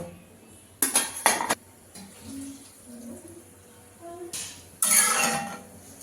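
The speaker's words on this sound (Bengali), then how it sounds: "এখন আমি নোনা ইলিশগুলো দিয়ে তারপর কিছুটা জল দিয়ে ঢেকে দেব" Salted hilsa pieces and water go into a cooking pot for a jackfruit-seed curry, then a metal lid is set on: two bursts of clanking metal and clinking utensils separated by a quiet stretch of faint kitchen noise.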